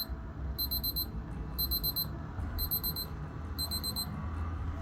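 A Casio F-201WA digital watch countdown timer alarm beeps in four quick bursts of rapid high-pitched chirps, evenly spaced, over a low background rumble.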